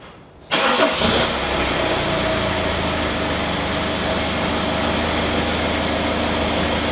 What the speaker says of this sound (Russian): Сейчас заведу автомобиль.